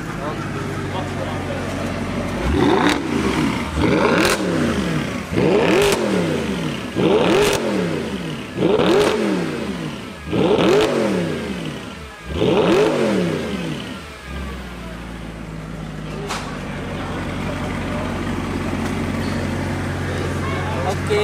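A Mercedes SLS AMG with a cat-back valvetronic exhaust revs hard six times in quick succession, each blip rising and dropping sharply, then settles into a steady idle rumble.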